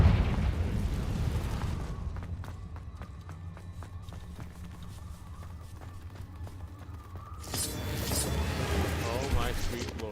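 A Confringo blasting spell detonating in the Hogwarts Legacy video game, a loud rumbling burst that dies away into quieter game sounds before another roaring blast swells near the end, with someone talking over the noise.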